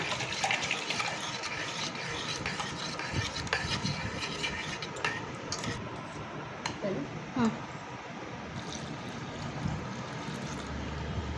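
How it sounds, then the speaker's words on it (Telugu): A cup of water is poured into a bowl of chopped onion and tomato, giving a continuous close splashing rush that runs steadily with faint background noise. "ఒక కప్పు వాటర్ వేసుకోవాలి."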